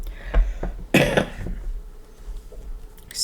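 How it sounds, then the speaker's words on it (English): A single close cough bursts out once, with small throat noises before it, in an otherwise quiet room. "Excuse me for coughing."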